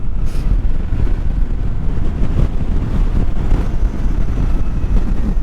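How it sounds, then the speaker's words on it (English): Strong wind buffets the rider on an electric motorcycle commuting along a road with a long straightaway and sharp turns, a loud, continuous low roar with no talk. "this wind sucks"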